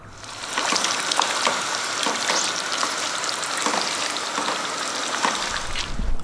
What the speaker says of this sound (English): That's boiling away nicely.